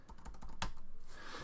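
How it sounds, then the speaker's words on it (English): Rapid clicks of keys on a computer keyboard, close and fairly quiet, in quick uneven bursts followed by a sharper key strike. "you'll see I'm typing just random values in"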